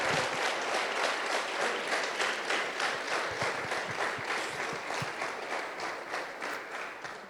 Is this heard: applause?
yes